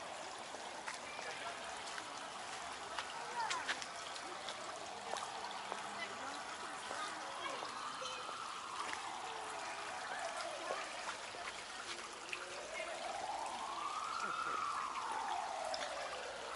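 A stream flows under a small footbridge in Kalinningrad's Central Park, a steady soft rushing of water throughout, with faint rising tones and background noise on a warm day.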